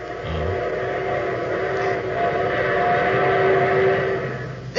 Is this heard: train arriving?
yes